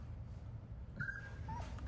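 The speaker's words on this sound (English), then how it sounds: "They're starting to growl and bark, make noises." A young Doodle puppy makes a couple of short, faint high whimpers over a low background rumble.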